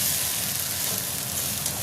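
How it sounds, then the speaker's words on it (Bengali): Water spinach (kalmi greens) fries in a pan, giving off a brief, steady, close sizzling hiss with no talk. "এখানে কলমি শাক ভাজা বসিয়ে নিয়েছি"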